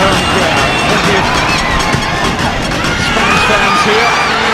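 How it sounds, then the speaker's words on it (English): Home crowd at a football match, Puerto Rico against Spain, keeps up a loud, steady roar of massed voices and shouts across the whole stretch, with no single voice standing out. "roared on by the home crowd"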